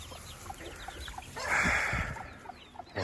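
A small group of chicks and young roosters clucks softly nearby, giving scattered short calls. A louder rasping squawk rises midway, with quiet rustling between the calls.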